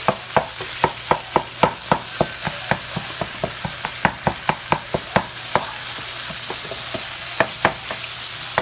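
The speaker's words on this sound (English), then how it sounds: "going to mix it around. So that hot oil will actually also help the tater tots thaw a little bit" Frozen tater tots being stirred in hot oil in a pan, a steady sizzle under a regular series of sharp scraping clacks from the utensil, close and fairly loud.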